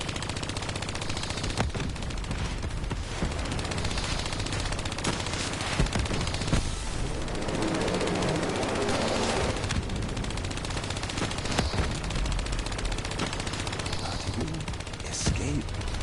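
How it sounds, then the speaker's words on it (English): Rapid automatic gunfire rattles without pause through a firefight in a video game, loud and steady across the whole stretch with faint game voices underneath. "I'm not gonna stop shooting."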